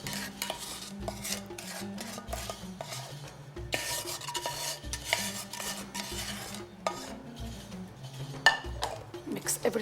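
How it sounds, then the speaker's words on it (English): Chopped walnuts being stirred into a molasses and sugar syrup for a sesame sweetmeat, giving steady scraping and rubbing of a utensil against a pot, close and continuous with a few clinks, alone without talk. "Mix everything together."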